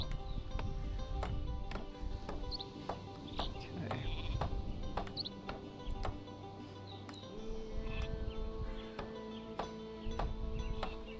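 Sheep in the video game Northgard bleat several times over a low game soundscape with repeated ticking clicks, the bleats faint and spread out amid quiet background sound.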